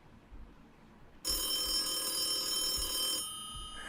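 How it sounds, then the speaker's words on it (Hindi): A telephone bell rings suddenly at night, a steady, bright ring holding for about two seconds before dropping to a softer tail, alone in a quiet room. "मिस्टर दास के बेडरूम में उनका टेलीफोन बजने लगा"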